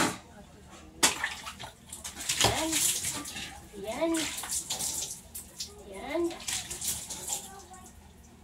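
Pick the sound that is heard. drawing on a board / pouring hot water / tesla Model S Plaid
pouring hot water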